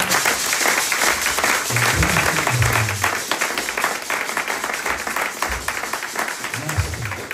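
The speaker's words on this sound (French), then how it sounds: "joignez vos mains et nous acclamons le Seigneur pour cela" A church congregation claps in sustained, dense applause that carries on throughout, with murmuring voices and brief shouts mixed in and a low rumble beneath.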